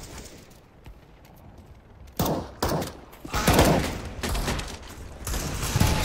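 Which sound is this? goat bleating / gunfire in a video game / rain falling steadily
gunfire in a video game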